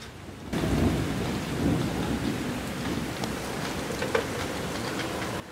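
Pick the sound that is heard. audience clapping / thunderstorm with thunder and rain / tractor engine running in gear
thunderstorm with thunder and rain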